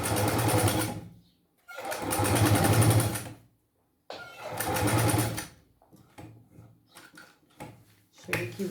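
A domestic sewing machine stitches piping onto a 3D pencil case, running in three loud bursts of rapid, even stitching separated by pauses, then a few softer short runs with small clicks and handling noise at the end.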